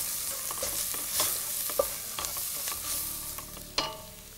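Coriander powder and chili powder fry in oil over a medium flame in a home cooking pan, a steady close sizzle broken by several scraping stirs and clinks of a spoon, with no talk.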